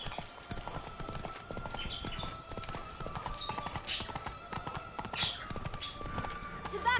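Hooves of the horse clop in a steady galloping rhythm through a fantasy game scene in The Witcher 3: Blood and Wine, loud and continuous, with game sounds and someone talking intermittently over them.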